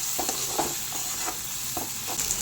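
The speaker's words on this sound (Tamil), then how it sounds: "நல்லா அந்த வெங்காயம் தக்காளி நல்லா வதங்கி வரட்டும்" Onion and tomato sautéing in oil in a pan, a soft continuous sizzle with a few gentle scraping stirs at irregular intervals, close by and with no voices.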